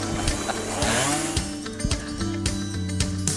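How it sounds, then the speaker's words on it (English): Chainsaw cutting wood to build a wood slat house, the engine droning loud and steady with rising and falling revs as the blade bites. "This is a wood slat house built with a chainsaw."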